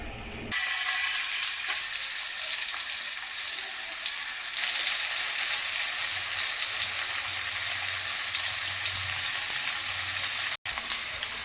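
Oil heating in a kadai on a gas stove, giving a loud, steady close-up sizzle that swells a little partway through and holds continuously, with one brief cut near the end and no voices.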